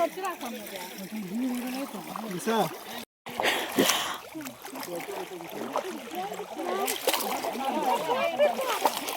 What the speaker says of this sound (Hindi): ये बहुत ज्यादा धारा है पानी की।